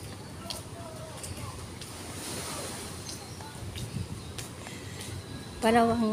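Continuous wash of surf and wind noise on a beach during a storm, steady and moderately loud, with a brief tonal sound near the end.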